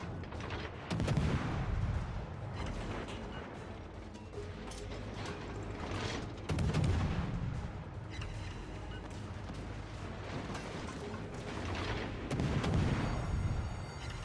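Naval gunfire in World of Warships: Legends, with heavy booming salvos near 1, 6.5 and 12.5 seconds over a continuous rumble of battle and engine noise, loud and without talk.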